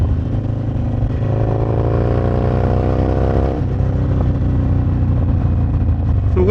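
A Harley-Davidson Sportster motorcycle engine runs steadily close by, a loud continuous low rumble with a brief rise in pitch partway through before settling back to a throbbing idle.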